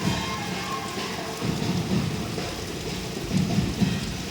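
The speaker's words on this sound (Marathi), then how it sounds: "एवढा मोठा पाऊस पडतोय बघा आणि समोर नाचतायत अजून गडगड मामा भरपूर चाललाय बघा" Steady heavy rain hissing throughout, with low rumbling swells of thunder rolling in the background. No voices.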